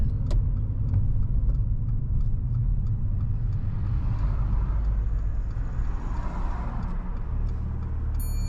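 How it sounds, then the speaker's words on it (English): A car pulling over and parking on the left side of a road, a steady close engine and tyre rumble that holds throughout and eases slightly toward the end, with no talk. "You can pull over and park up on the left hand side somewhere safe."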